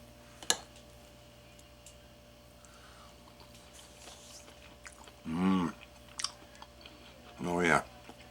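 Close-up chewing of freeze-dried black-eyed peas and greens with chunks of ham, with a few soft clicks and two louder bursts of mouth and bite sounds, quiet in between.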